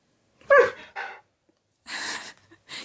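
A husky gives short breathy whines and huffs in a quiet room, two quick bursts followed by two longer airy vocal sounds with gaps between them.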